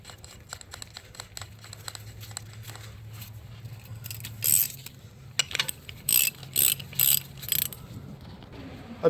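Ratchet clicking in rapid bursts while snugging 13 mm bolts on an engine brace of a 2013 Dodge Dart 1.4L, close and fairly loud, with short pauses between runs and a low hum underneath.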